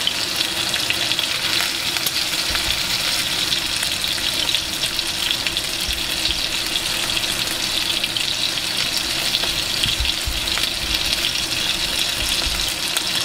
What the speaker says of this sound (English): Can't beat that sizzle of the steak